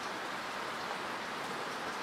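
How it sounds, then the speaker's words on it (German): Steady rain falling outdoors on a February Sunday, a dense, even hiss of drops on surfaces that runs without a break, moderately loud and alone with no voices. "jetzt regnet es"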